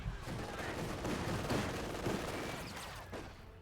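Distant battlefield gunfire from an infantry skirmish in Company of Heroes 2, with dense overlapping rifle and machine gun crackle, muffled and continuous, sitting low in the mix.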